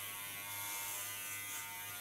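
Electric hair clipper buzzing steadily and close while shaving a person's head, a continuous hum running without a break.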